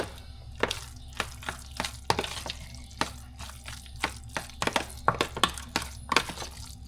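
Spoon scraping and knocking against a bowl while sautéed spice paste is stirred into a mashed tofu mixture for pepes, a steady run of sharp close clicks and taps over a low hum.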